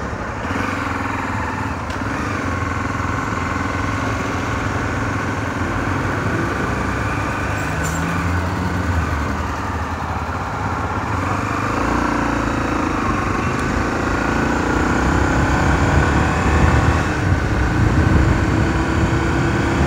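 A motorcycle riding along a city avenue in Recife, with a loud, steady engine drone and wind rush close to the microphone that continues without a break and rises slightly toward the end.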